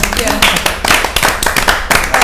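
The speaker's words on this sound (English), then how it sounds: "Round of applause to closing" A small panel audience at a fashion discussion gives a brief round of applause, with distinct individual claps in an uneven rhythm, close and fairly loud, mixed with voices talking over them.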